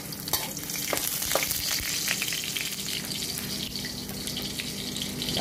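Garlic fries in a pan, giving a continuous close crackling sizzle with occasional louder pops and clatters from stirring.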